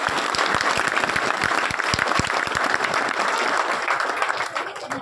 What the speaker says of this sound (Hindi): पर जोरदार तालियों से स्वागत है